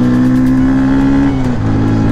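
A motorbike engine running on a cold mountain ride in Upper Mustang, Nepal, with a clutch reported as slipping and power low: a steady, close mid-pitched drone whose pitch sags slightly near the end, with no voices.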